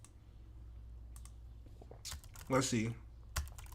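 A computer keyboard is tapped in short scattered bursts of clicks, quiet and close, while someone briefly speaks over the keys.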